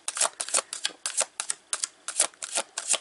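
A deck of tarot cards is shuffled, giving a quick run of crisp, papery riffling bursts in an uneven rhythm, close and alone without any talk.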